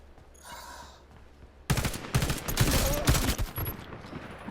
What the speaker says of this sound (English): as you can see, the burst weapons are pretty strong